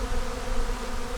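Honey bees swarm around a hive box, a dense steady buzzing that hums close and unbroken throughout.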